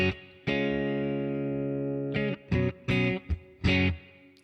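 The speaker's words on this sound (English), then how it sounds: "that's my reverb I would have on everything" A guitar run through a Neural DSP Quad Cortex with reverb plays one long sustained chord, then a few short stabbed chords. Each one rings out with a reverb tail, with no talking.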